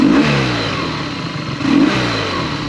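A BMW R nineT motorcycle fitted with a Jekill & Hyde exhaust revs loudly and close, two throttle blips rising and falling over a steady idle rumble.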